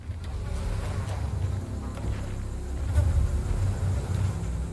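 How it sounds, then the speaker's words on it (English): Mosquitoes whine in a steady, close buzz in the video game Alone in the Dark, over a low ambient rumble that swells slightly midway. "Hearing mosquitoes more and more."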